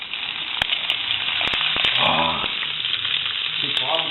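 Meat frying in a preheated pan after being tipped in with a wooden spoon, a loud continuous sizzle with sharp crackles and pops, close up and alone.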